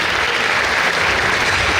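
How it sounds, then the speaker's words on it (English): Steady applause from a school audience at a centenary commemoration day, honouring a student for his exam results; dense, even clapping fills the short stretch without a break. "Give a big round of applause for him"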